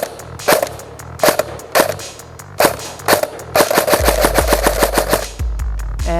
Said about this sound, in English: Let's see what the trigger response is like on semi.